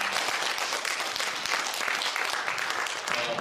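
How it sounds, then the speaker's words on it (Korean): An audience at a Korean filial-piety instructor selection ceremony gives encouraging applause, a continuous rattle of many hands, steady and fairly soft, with a faint murmur of voices underneath. "우리 격려 박수 좀 보내주십시오"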